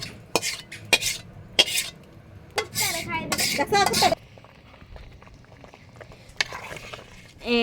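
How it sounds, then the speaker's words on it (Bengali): Metal spoon scraping and clanking in a cooking pot while stirring khichuri of rice, lentils and meat, several sharp knocks and scrapes in quick bursts, with a person talking over it and quieter stretches after. "এটা হচ্ছে মাংস দিয়ে একদম মিশিয়ে খিচুড়ি রান্না হইতেছে। ডাল, চাল, মাংস সব মিশিয়ে।"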